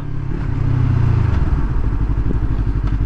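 A 2019 Yamaha R3 motorcycle engine revs loudly close by, a throaty burst followed by a rapid, pulsing idle-like beat, with no voices.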